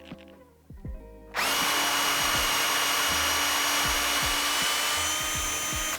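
A power drill whirs steadily and loudly up close after a few quiet clicks, drilling angled concealed-hinge holes in MDF with a Kreg jig, running continuously for several seconds before stopping.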